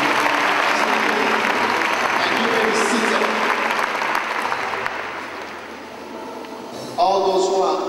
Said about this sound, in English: Give them a mighty clap.